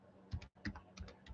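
Keys on a computer keyboard tapped in short bursts of a few strokes, with a brief pause in the middle, close and fairly quiet.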